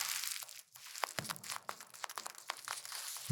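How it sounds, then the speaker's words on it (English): Hacky sack juggling balls squeezed close to the ear, giving repeated crisp crunching and crinkling pulses of their filling, quiet and intimate with no voices. "These are like juggling balls. Okay. But if you crunch these,"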